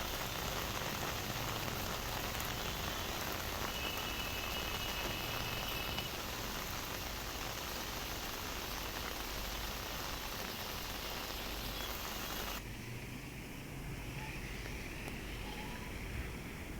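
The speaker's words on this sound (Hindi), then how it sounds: "ये लगातार मूसलाधार बारिश 3 दिन से" Heavy, continuous monsoon rain in the Uttarakhand hills, a dense, steady hiss of downpour on surfaces that runs unbroken and fairly close, easing slightly toward the end, with no talking.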